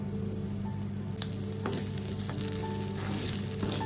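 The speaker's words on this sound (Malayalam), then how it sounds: "നമുക്ക് ഈ ഉണക്കമീൻ ഒന്ന് ഡ്രൈ റോസ്റ്റ് ചെയ്തെടുക്കാം." Dried anchovies dry roasting in a pan for a Kerala-style dried fish chammanthi give a steady, close crackling sizzle, broken now and then by sharper stirring scrapes, with no voices.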